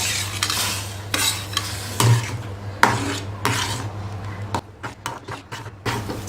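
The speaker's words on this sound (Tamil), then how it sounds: "கொஞ்சம் கொஞ்சமாக போட்டு கலக்கி விடுங்க, இல்லைன்னா உருண்டையாக ஆகிடும்." A spoon stirs semolina briskly into boiling water in a pot, scraping and clinking against the metal in uneven strokes, with a low steady hum from the stove underneath.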